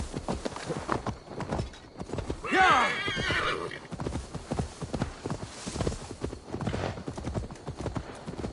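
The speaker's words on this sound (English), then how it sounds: "Now to deliver Magni his horse." In the video game Assassin's Creed Valhalla, a horse's hooves clip-clop steadily nearby while the horse gives a loud neigh partway through.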